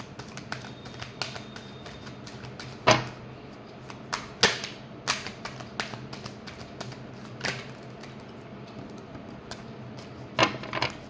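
Tarot cards being shuffled by hand, heard as irregular soft riffles and sharp little taps, a few louder snaps standing out, close and clear with no talking.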